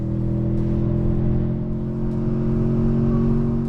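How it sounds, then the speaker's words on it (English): A Toyota Tundra pickup's 3.4-liter twin-turbo V6, towing a trailer, drones steadily at high revs with a strong, sustained hum heard up close and without talk. "Ah, there she goes. She revs out now."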